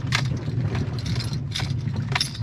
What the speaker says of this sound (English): you hear the keys smacking as they bounce around